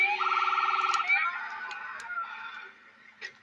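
A wailing ambulance siren from the video game GTA 4 warbles rapidly and loudly for about a second, then cuts off, leaving fainter game noises and a few soft knocks.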